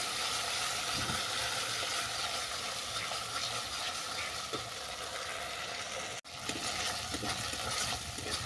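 Sour yogurt and spices cook together in a pan for a vegetarian posto potol dish, giving a steady, dense sizzle with soft stirring underneath and a brief dropout partway through; no one speaks.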